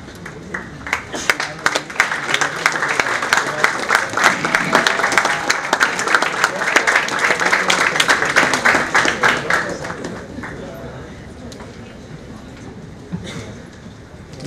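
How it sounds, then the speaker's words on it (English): A business school audience breaks into a round of applause, the sharp, dense clapping building and holding for several seconds before thinning into scattered claps and quieter room sound. "please give him a huge round of applause"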